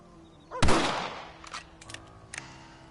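A single sharp rifle shot cracks out loud and close, its echo trailing off, followed by a few fainter clicks and knocks of the rifle being handled.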